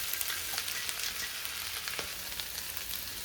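Cauliflower florets frying in a pan with other fried rice ingredients, giving a steady, close sizzling hiss with faint crackles throughout and no voices.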